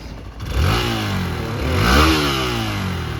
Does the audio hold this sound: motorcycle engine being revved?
yes